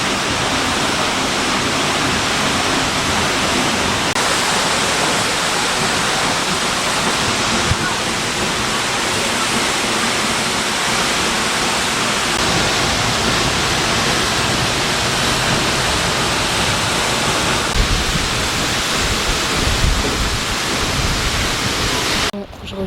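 Seljalandsfoss waterfall in Iceland roars as a loud, continuous broadband rush of falling water, close and steady from start to finish, filling the whole scene without pause.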